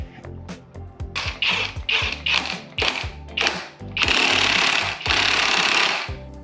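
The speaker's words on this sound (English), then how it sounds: "putting the crank pulley back on" A crank pulley being tightened back onto a Honda Civic EK engine: loud, close, rapid mechanical hammering bursts in a stuttering rhythm, then two longer sustained runs near the end, with no talking.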